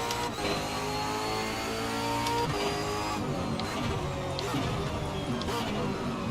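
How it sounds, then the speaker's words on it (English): A race car engine in the Assetto Corsa racing game, a Supercar at Tamiami Park, drones steadily, its pitch shifting as the throttle eases off, with crackling exhaust pops and a constant mechanical whine. "the car sounds amazing when you come off the throttle"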